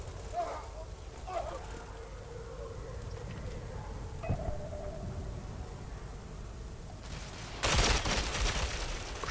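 Gunfire in the shooter game Ghost Recon Phantoms: scattered shots and bursts fairly far off under a steady background hiss, with a denser, louder burst near the end.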